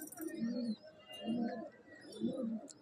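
Pigeons coo in a pigeon loft during a winter racing competition, three low throaty coos rising and falling in a slow rhythm, close and moderately loud, with faint chirps behind.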